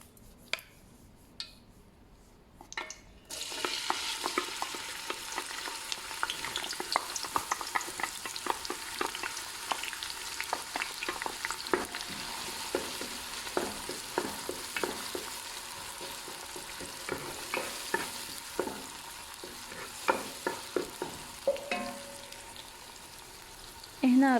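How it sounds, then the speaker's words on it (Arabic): Onion and garlic fry in a pan for Saudi-style chicken kabsa, a steady close sizzle with frequent scraping stirs and utensil clicks after a quiet start. "راح نحمس البصل"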